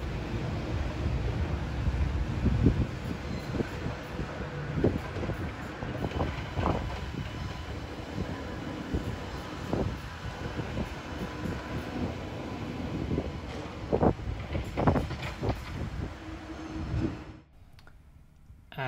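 A Sydney Metro train leaves the train washer at the Trains Facility North depot at Rouse Hill. A steady low rumble runs under repeated clicking and clunking of wheels over track joints, heard at moderate distance for most of the clip before it suddenly quiets.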